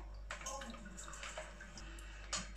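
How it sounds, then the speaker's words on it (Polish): Hands dipped and wetted in a bowl of cold water while shaping Sicilian rice arancini, a close, steady watery swish and splash with faint background hum and no speech. "Moczymy ręce w zimnej wodzie."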